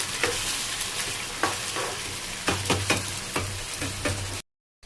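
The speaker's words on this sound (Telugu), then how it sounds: "చక్కగా చికెన్ వేగిపోయింది కదా" Chicken pieces frying in a pan for a chicken fry, stirred with steady scraping strokes over a continuous loud sizzle, close up with no talking, ending abruptly in silence.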